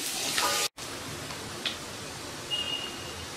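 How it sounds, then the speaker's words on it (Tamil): Garlic and ginger sautéing in a pan, a steady close sizzle with a few spoon taps and scrapes and one abrupt momentary cut in the sound, no talking. "பூண்டு பச்சை வாடை போகிற வரைக்கும் நல்லா வந்து இதை வதக்கிடுவோம்."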